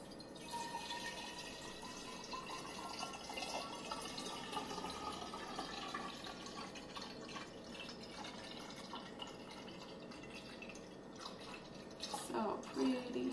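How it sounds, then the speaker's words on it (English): Distilled water from a countertop distiller poured into two half-gallon jugs, a steady trickling, dripping stream that runs continuously at low level, with a brief louder splash near the end. "I'm just gonna put the water in these 2 half-gallon jugs"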